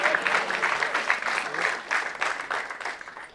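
An audience at a stand-up comedy show claps for the comedian, a lively, sustained round of many hands with pulsing swells that tapers off toward the end.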